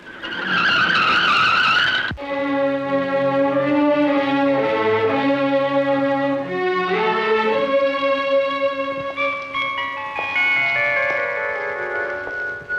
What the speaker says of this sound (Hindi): ड्राइवर, तेज गाड़ी चलाओ।